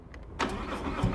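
An engine at a Harley-Davidson dealership cranks and catches after a brief quiet moment, then settles into a close, steady rumble with a low thump near the end.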